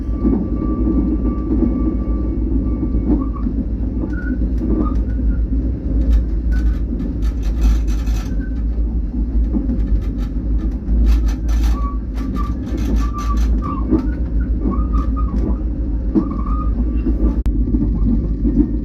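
Special express first-class sleeper train running from Chiang Mai to Bangkok in Thailand, heard from inside as a steady low rumble with light rattles and faint squeals and clanks scattered through.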